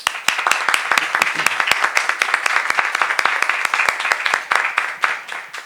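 Steady, rapid applause from an audience welcoming a speaker at a lecture on freedom of expression, misinformation and hate speech, with sharp claps sounding close and lasting throughout.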